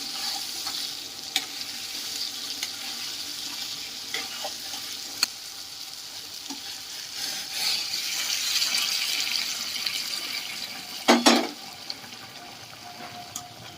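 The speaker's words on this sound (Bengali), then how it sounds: "তো এবারে আমি এর মধ্যে অ্যাড করে দেব উষ্ণ গরম জল।" Warm water poured into oil with frying potatoes for a shol fish kalia curry, giving a steady rushing sizzle that swells near the end with a few sharp clinks, close and without talk.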